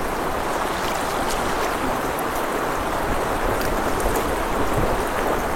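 Cold river water rushes steadily over stones in northern Bengal, a loud, dense and unbroken roar close by with no pauses.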